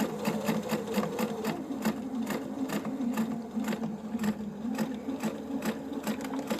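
Half Expression 720 sewing machine stitching a washable fabric face mask, a close, steady rapid mechanical chatter of needle strokes running continuously without talk.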